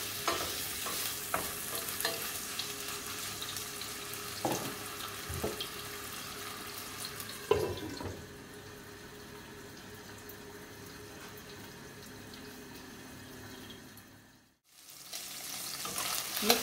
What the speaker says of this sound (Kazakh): Ет жақсылап қызарып қуырылды.